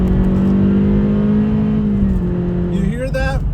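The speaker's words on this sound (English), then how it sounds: "Took the microphone off so you can hear the engine a little bit." Engine of a 2023 Acura Integra heard from inside the cabin, a steady tonal drone that rises in pitch as revs climb toward the end, with faint speech mixed in.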